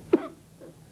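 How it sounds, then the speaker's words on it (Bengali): A single short, sharp cough, fairly quiet and alone, followed by a faint trailing breathy sound. "কাশির নমুনাটা কিরকম ছিল?"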